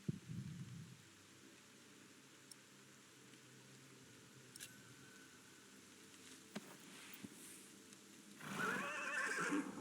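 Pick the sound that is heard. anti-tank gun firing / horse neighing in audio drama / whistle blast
horse neighing in audio drama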